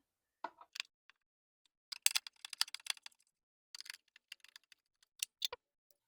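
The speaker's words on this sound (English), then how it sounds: "let's get these screws out here." A Phillips screwdriver backs screws out of a mud guard, giving faint, sparse clicks and ticking scrapes in short irregular bursts with quiet gaps between.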